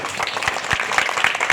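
A crowd at a Hindu devotional jagran gathering claps in a brief, dense burst of applause with scattered sharp hand claps.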